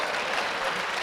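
Steady, dense applause from an audience at a comedy show, continuous and fairly loud throughout with no voices standing out.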